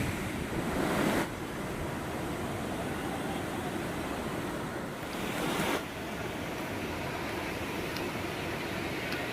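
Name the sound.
Ganesh waterfall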